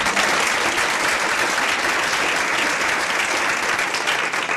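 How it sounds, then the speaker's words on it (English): A Regis University audience gives steady, sustained applause for students returning from a spring break service trip to Wind River, with the clapping loud and continuous throughout. "I think we should all give them a round of applause."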